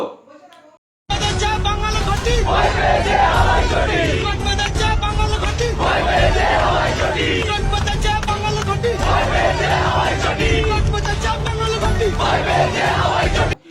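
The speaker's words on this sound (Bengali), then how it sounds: "রাজপথে স্লোগান উঠল ঘটি বাঙাল একাকার ভয় পেয়েছে স্বৈরাচার" A dense street crowd at a protest, loud and continuous, with voices chanting slogans together in rhythmic surges over constant babble. Someone speaks over the crowd throughout.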